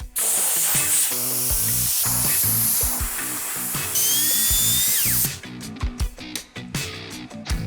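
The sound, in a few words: air compressor blowing water off a cleaned bike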